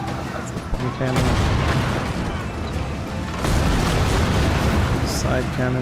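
Broadside cannons on a pirate ship fire in Skull and Bones, giving loud, dense booming volleys at about one and three and a half seconds, layered with game music and voices.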